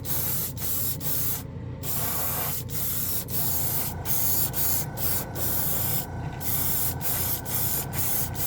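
Steady hiss of a Gaahleri Barbatos Rex Swallowtail airbrush spraying paint at about 25 psi through a large nozzle over a big model kit, close and continuous, with brief pauses between bursts.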